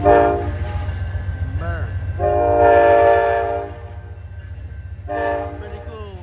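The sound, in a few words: Amtrak P42 locomotive train passing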